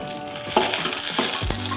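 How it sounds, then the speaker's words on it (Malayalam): Chopped red onion and curry leaves sauté in a hot pan for rasam, a steady close sizzle with a few soft stirring scrapes and clinks. "ഇനി അടുത്ത് കറിവേപ്പില ഇട്ട് കൊടുത്ത് വഴറ്റണം."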